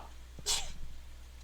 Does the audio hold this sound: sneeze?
yes